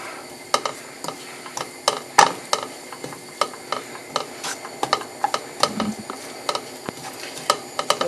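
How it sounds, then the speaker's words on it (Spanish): Spoon stirring cumin into a tamale mixture in a pot, a steady series of sharp clinks and scrapes against the metal, close and alone. "y vamos a revolver muy bien"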